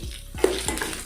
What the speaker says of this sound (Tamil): இப்போ கடலைப்பருப்பு, உளுத்தம்பருப்பு எல்லாம் போட்டு ஃப்ரை பண்ணலாம்.